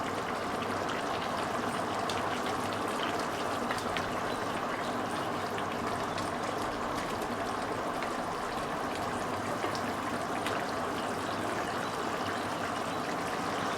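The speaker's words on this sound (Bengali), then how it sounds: "এবার আমি ভালো করে নেড়ে চেড়ে এটা ফুটিয়ে নেব।" A Bengali singi fish curry with green banana and potato simmers in a pot, giving a steady, even bubbling and hissing boil that runs unbroken throughout at moderate, close level with no talk.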